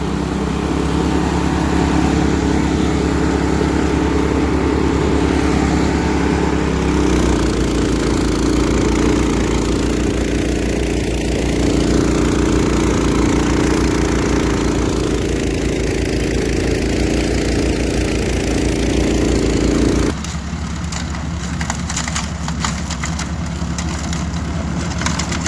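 A Predator-engine-swapped 924 snowblower idling, its small engine putting out a steady close, loud drone that drops to a lower, rougher idle partway through.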